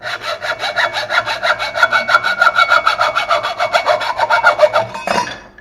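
Hand saw cutting through model airplane landing gear held in a vise, a steady close back-and-forth rasping rhythm of quick strokes that ends with a brief clatter.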